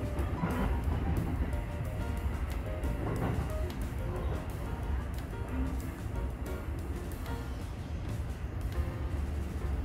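A Sotetsu-JR through train, running as a limited express, rumbles steadily from inside the car as it switches tracks, with a continuous low roar and a few faint wheel clicks, no talking.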